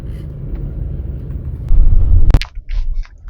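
Road traffic crossing a large bridge in poor condition, with one-way traffic jammed: a steady low rumble of vehicles that swells into a louder pass, then drops away with a few brief higher sounds.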